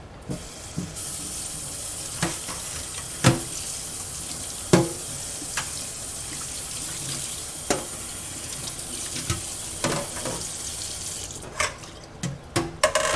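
Tap water runs into a kitchen sink to rinse a metal strainer, a quiet steady flow broken by repeated sharp clinks and knocks of metal against the sink, which grow busier toward the end.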